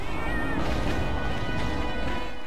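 Cat-like creatures meow in the video game Monster Hunter Freedom, with repeated loud cries over a dense, steady game soundscape and no talking.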